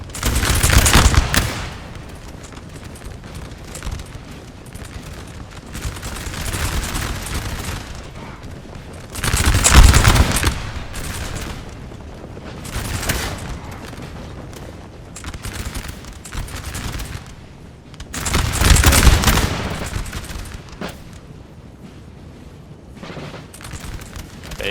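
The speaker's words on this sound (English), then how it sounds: "The sustained musket fire volleys from the Brits starting to whittle them down." Musket volleys in Napoleon Total War's Battle of Fuengirola (1810), British and Polish lines firing in loud rolling fusillades that recur every few seconds, with crackling scattered shots and a continuous battlefield din between them.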